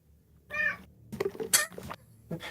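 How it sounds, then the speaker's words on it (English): A cat gives several short meows in quick succession, fairly close and clear over a quiet room. "I think that she just meowed at you."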